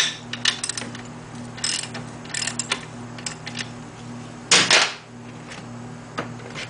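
Metallic ratcheting and clicking come from a bolt being removed on the final drive of a BMW R1100RT motorcycle. Short bursts and single clicks sound close, with a louder clank near the end over a low hum.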